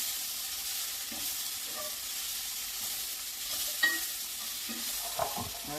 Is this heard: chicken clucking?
no